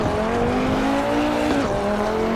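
An Audi RS3 Sportback in the racing game Assetto Corsa Evo: a steady, droning engine note that holds pitch, dips briefly after a shift, then carries on, loud and continuous with light tire noise.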